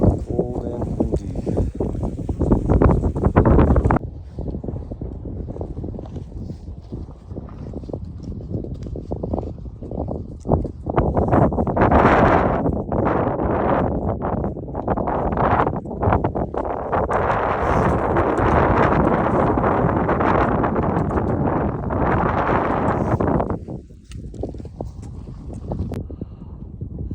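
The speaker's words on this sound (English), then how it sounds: "Cold and windy." Cold wind roars at a mountain viewpoint in the Huayhuash range of Peru, a loud, continuous rush of gusts buffeting the microphone at close range, surging and easing throughout.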